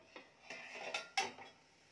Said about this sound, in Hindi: मिनट हो गए है, अब हम ढक्कन को हटा लेंगे।